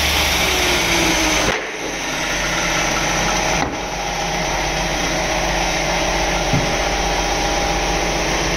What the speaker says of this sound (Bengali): কি মেশিন চলে তো, কম্প্রেসার মেশিন চলে, এর জন্য শব্দ